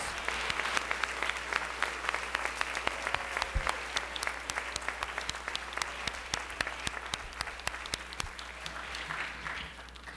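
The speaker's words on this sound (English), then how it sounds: "I would like everybody to please give a round of applause" A room full of people at a high school spring orchestra concert claps in sustained, dense applause that holds steady for the whole stretch, fairly close.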